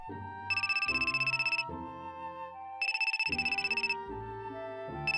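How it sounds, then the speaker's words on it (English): A phone ringtone plays in two bursts of rapid electronic trills over a synthesized melody, clear and close with no talking. "my phone rang"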